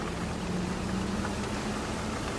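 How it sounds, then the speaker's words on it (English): A Honda CR-V compact SUV engine runs outdoors with a steady, continuous droning rumble and a low hum, holding an even level throughout with no voices. "he's revving a Honda CRV"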